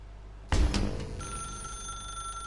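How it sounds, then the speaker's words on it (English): A telephone in The Stanley Parable rings with a sudden loud bell burst that fades into a steady ringing tone. "Now pick up the phone."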